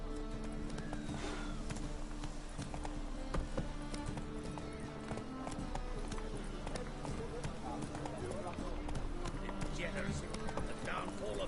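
Horse hooves clip-clopping in The Witcher 3, a quick repeated rhythm beneath ongoing voices and game ambience, moderately near throughout.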